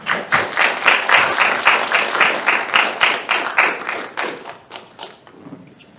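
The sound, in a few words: audience applause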